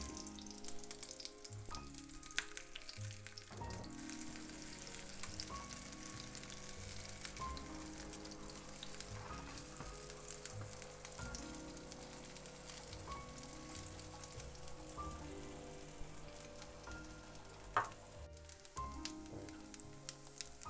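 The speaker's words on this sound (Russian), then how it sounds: "огонь средний, жарим до золотистой корочки" Steady crackling sizzle of crab-stick fritter batter frying in hot oil over medium heat, close and continuous, with occasional soft clinks of a utensil.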